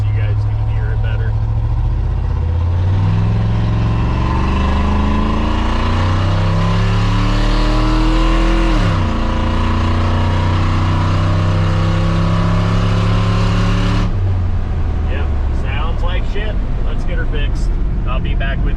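A 6.0 Silverado 2500 V8 fitted with Speed Engineering headers and a dual rear-exit exhaust, one side connected to the muffler, revs up and down repeatedly, loud and close, with deep rising and falling engine tone throughout.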